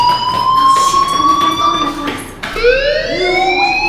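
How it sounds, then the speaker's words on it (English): A fire alarm siren wails in the Life is Strange video game, a loud continuous electronic tone that sweeps steadily, breaks off and restarts with a rising whoop, heard alone without talk. "do you hear that fire alarm?"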